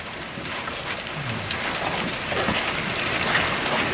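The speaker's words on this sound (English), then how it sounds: "we got a little bit of hail coming down here" Hail coming down outdoors during a storm, a dense steady patter of hits on surfaces that grows slightly heavier, with no talk.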